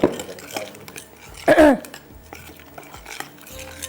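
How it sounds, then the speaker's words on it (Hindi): A spoon stirs a spice marinade for chicken tikka pieces in a bowl, with soft clinks and scrapes and one louder, busier burst of mixing partway through. "ये सारी चीज़ें डालने के बाद इसको ज़रा सा करते हैं हम मिक्स अच्छी तरह से"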